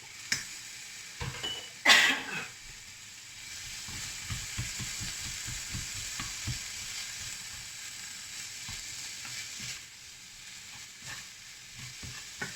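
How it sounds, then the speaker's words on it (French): Tuna with olives stirred in a hot pan: a continuous soft sizzle with repeated scraping stirring strokes and one brief louder hiss near the start, with no talking. "je vais juste mélanger pour que le thon soit imprégné de tous ces ingrédients et je vais éteindre le feu"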